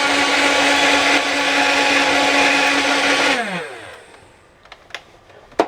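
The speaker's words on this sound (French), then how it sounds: "Là, vous allez voir le tapis roulant tourner." A Nerf N-Strike Elite Titan CS-50 toy's motor and conveyor belt whir loudly for about three seconds, then wind down and stop, followed by a few faint clicks.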